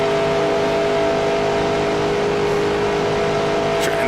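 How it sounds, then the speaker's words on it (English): Steady, loud race-car engine drone while drafting down the back straightaway at Daytona in NASCAR Racing 2003, a sustained high whine with a brief extra burst near the end and no voices. "Drafting with Waltrip down the back straightaway."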